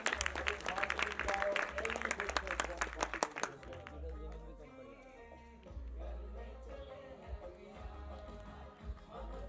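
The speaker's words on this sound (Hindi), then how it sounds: "योगेश लखानी जी, जोरदार तालियां." Audience at a film promotion event applauds for a few seconds in a moderately loud, crisp burst, then the clapping gives way to people talking.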